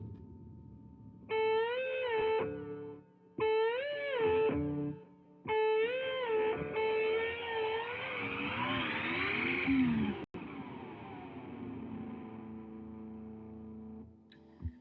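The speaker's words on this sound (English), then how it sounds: "That's that delay pedal spooling up." Guitar solo run through a delay pedal that is pushed into self-oscillation. It spools up into a rising, revving whine like a car engine, alongside repeated sustained distorted notes, with a sweeping swell near the end before it cuts off.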